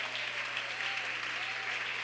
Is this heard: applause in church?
yes